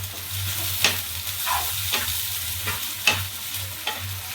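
Ginger and garlic fry in a pan with cashews, a steady close sizzle broken by a few soft stirring scrapes, with no voices.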